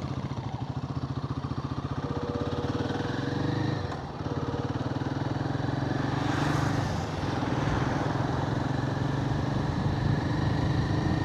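Royal Enfield Guerrilla 450, a 40 bhp motorcycle, rides along a narrow road, its engine droning steadily throughout with a brief dip near four seconds, close and constant with wind rush, no talk.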